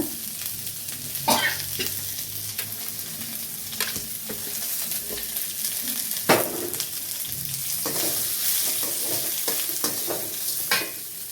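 Ridge gourd peel sautés in a pan, a continuous soft sizzle punctuated by a spatula scraping and tossing it every second or two, close and without talk.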